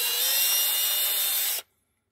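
Power drill whirring steadily at close range while boring into a shaft held with pliers, then cutting off abruptly into silence.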